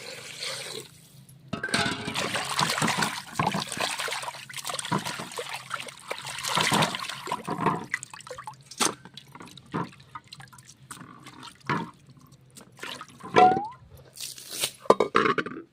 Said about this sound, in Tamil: சிக்கனை வந்து ஃபஸ்ட்டு தண்ணி ஊற்றி நல்லா கழுவிக்கலாம்